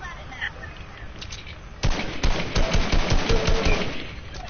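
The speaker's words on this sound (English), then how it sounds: "They're shooting a whole ton of missiles at it now!" Video game gunfire and missile launches crackle in rapid bursts, starting sparse then becoming a dense rattle of shots and booms, loud and close, with a voice speaking under the action.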